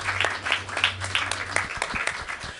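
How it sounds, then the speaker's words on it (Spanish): An audience applauds after a Spanish-language academic talk on practice as research in the arts, sound and transdisciplinarity, giving a short, dense burst of clapping that fades out within a few seconds. "Muchas gracias. Aplausos."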